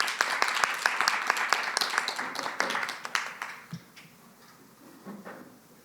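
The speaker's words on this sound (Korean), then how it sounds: "박수로 맞아주세요." An audience at an academic forum claps to welcome a panelist, with brisk, fairly close applause that thins out and fades after a few seconds.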